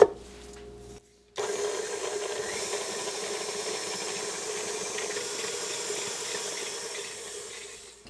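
An electric mixer creams butter and two sugars together for Christmas cookie dough, a steady close whirring drone that starts abruptly after a short pause and runs on evenly, fading slightly at the end.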